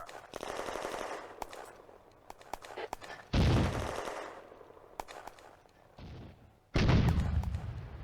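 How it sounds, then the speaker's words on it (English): Bursts of simulated artillery and mortar fire on the Eastern Front in a wargame crack and rumble, with rapid machine-gun-like rattles, then heavy booming impacts and long rolling decays between short pauses. "the artillery open a fire mission on the 45mm"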